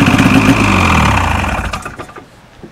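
A snowmobile engine with electric start runs with a rough, close, pulsing mechanical rumble that dies away over about two seconds into quieter clicks.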